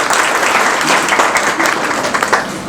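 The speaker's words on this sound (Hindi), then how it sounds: "जी तालियां।" Sustained applause from an audience at a homeopathy society gathering in Faisalabad, dense and steady clapping filling the whole stretch at close range with no voices over it.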